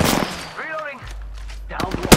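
Gunfire in a video game, sharp bursts of shots at the start and again near the end with a loud crack, set against a low engine-like hum; a voice speaks briefly in the middle.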